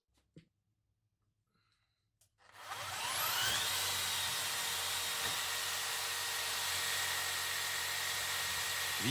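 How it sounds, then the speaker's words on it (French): An electric drill starts up after a few quiet seconds of light clicks and then runs at a steady high whine as it bores into a piece of wood, loud and continuous with no talking. "nous allons avec deux perceuses différentes percer le même morceau de bois"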